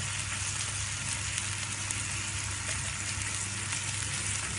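Onion, tomato and ginger-garlic paste sizzle steadily in a pan while being mixed for butter chicken, a constant close hiss with faint scraping and no talking.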